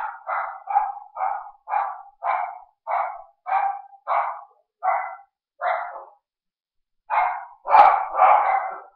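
A dog barks repeatedly indoors at a house, a steady run of about a dozen loud, close barks in a regular rhythm, then a short pause and a final burst of harsher, overlapping barks.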